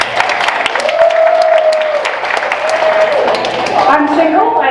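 Audience applause at a stand-up comedy show fills the room with steady, dense clapping for nearly five seconds, with crowd murmur and voices mixed underneath.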